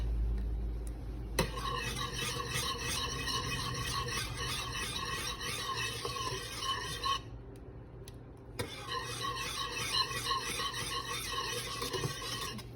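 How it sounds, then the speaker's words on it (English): A utensil stirs mac and cheese in a pot, making a steady rhythmic scraping that runs continuously, pauses briefly, then resumes at the same even pace. "We will stir that in well."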